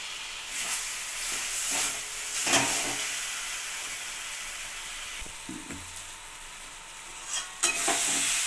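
Cooked taro leaf greens with a spoonful of ghee get stirred in a pan, a steady hissing sizzle punctuated by a few scraping strokes of the spatula, close and moderately loud, with no talking.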